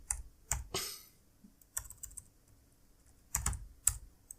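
Bursts of typing on a computer keyboard during a network security demonstration: clustered clicks and short runs of keystrokes with pauses between, fairly close and distinct, with no speech.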